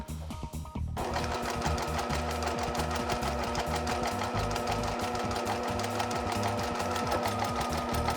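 A Bernina 1008 sewing machine starts up after a brief quiet moment and runs continuously, its needle stitching in a fast, even mechanical rhythm that stays close and steady.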